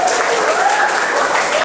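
Students clap together in a classroom, a dense, loud burst of applause lasting under two seconds before cutting off sharply.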